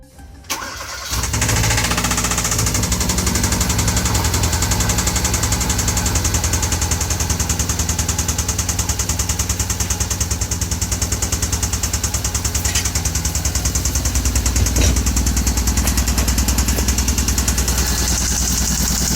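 A Hyundai Veloster Turbo engine cranks and catches after a brief silence, then runs at a steady loud idle with a persistent metallic knock threaded through it, close and alone with no talk.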